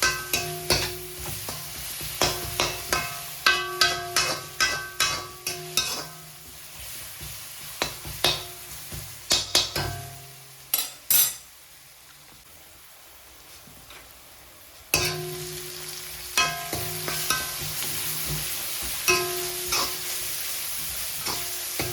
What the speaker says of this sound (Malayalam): ഇത് ഒരെണ്ണം ചേർത്ത് നമ്മൾ അരിഞ്ഞിട്ടുണ്ട് ചെറുതായിട്ട്. സവാള ഒന്നിട്ട് വാർക്കാം.